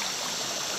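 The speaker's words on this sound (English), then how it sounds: "We have some rapids ahead." River rapids ahead give a brief, steady rush of flowing water, a broad continuous hiss with no voices over it.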